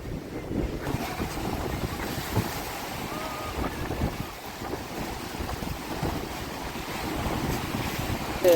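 Sea waves hitting the coast make a steady, continuous wash and rumble, with wind buffeting the microphone throughout and no clear breaks between surges.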